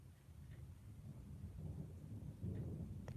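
Thunder from an approaching lightning storm, a faint low rumble that swells and rolls over a few seconds, distant and quiet, with light rain or wind noise around it.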